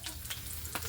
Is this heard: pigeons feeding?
no